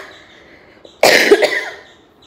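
A person with a lingering cough gives one sharp, loud, close cough after a quiet pause. It breaks into a short rasping burst and fades quickly into near silence.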